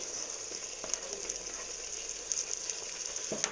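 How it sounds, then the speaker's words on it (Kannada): Onions frying in a pan for drumstick pulao, a continuous close sizzle with faint crackles and occasional light stirring taps, no talking. "ಈರುಳ್ಳಿ ಫ್ರೈ ಆಗ್ತಾ ಇದೆ"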